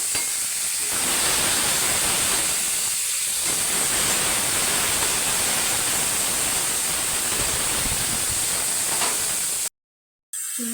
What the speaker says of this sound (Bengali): চিংড়ি মাছ ভেজে নেবো, তেল দেবো কড়াইতে, তেল গরম হয়ে গেছে, দিয়ে দেবো